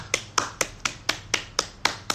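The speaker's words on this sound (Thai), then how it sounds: "เราจะปรบมือเป็นกำลังใจให้กับทีมแพทย์แล้วก็พยาบาลครับผม" Steady, evenly spaced claps, about nine sharp strikes in two seconds, nearby and fairly loud, with no voices, as people applaud to cheer on doctors and nurses.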